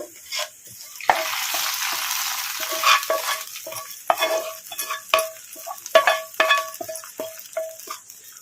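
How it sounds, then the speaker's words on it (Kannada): Hot tempering sizzles steadily as it hits brinjal pachi pulusu, an Andhra tamarind-based dish, with spoon scrapes and small metallic clinks from stirring throughout. "ಈಗ ಒಗ್ಗರಣೆ ಹಾಕ್ಕೊಂಬಿಡೋಣ"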